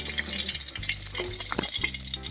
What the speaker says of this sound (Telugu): ఇలా తెల్లగా వచ్చేదాకా వేయించుకోవాలి పచ్చిమిర్చి వేగిపోయాయి